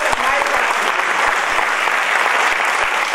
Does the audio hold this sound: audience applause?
yes